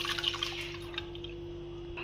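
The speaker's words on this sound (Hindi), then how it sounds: "तो ये हम पानी इसका अलग कर लेंगे।" Water poured and drained off peeled soaked almonds in a kitchen, a faint trickle and a few drips against a steady low electrical hum, fading after the first moment with no talk.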